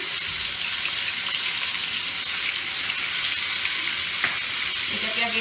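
Onion paste is stir-fried in oil for a Bengali pabda fish tel jhal, with a loud, dense, continuous sizzle and a faint scrape of stirring near the end.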